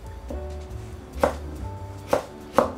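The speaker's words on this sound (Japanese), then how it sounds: "オクラは先に刻んでから茹でます" A kitchen knife slices okra thinly on a cutting board, giving a few sharp, close chopping knocks at irregular intervals over a low background hum, with no talking.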